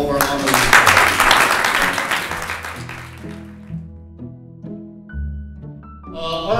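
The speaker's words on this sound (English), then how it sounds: "So just a round of applause for all of our honorees." University audience at a promotion and tenure celebration claps for honorees, a loud burst that tapers off after about three seconds as a voice and tonal sounds take over.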